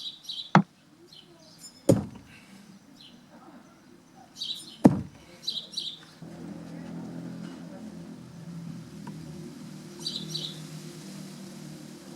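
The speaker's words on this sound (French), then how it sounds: "les oiseaux de mon jardin. Vous avez pu remarquer qu'ils se manifestent assez bruyamment" Garden birds chirp in short bright calls scattered across a quiet outdoor scene, faint to moderate, with a few sharp knocks and a low steady background hum.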